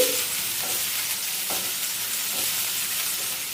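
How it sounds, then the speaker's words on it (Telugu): Sliced onion and lengthwise-cut half capsicum fry in a pan for a dhaba-style aloo capsicum curry, a dense continuous hiss of sizzling oil with a few faint stirring scrapes underneath, steady and close. "ఒక హాఫ్ క్యాప్సికమ్ని ఈ విధంగా నిలువుగా కట్ చేసుకుని యాడ్ చేసి వేయించుకోవాలి"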